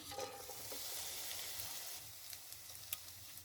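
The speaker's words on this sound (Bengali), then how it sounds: "সব কিছু আমি চার পাঁচ মিনিট ভেজে নেব" Prawns with onion, chilli and garlic fry in hot oil in a wok, giving a soft steady crackling sizzle with occasional small pops and stirring scrapes, faint and close.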